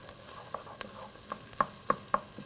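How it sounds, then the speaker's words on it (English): Red onion sautéing in a pan for a turkey and bean chili, a quiet steady sizzle broken by a few sharp clicks and taps of a utensil against the pan, with no voices. "Saute those in there."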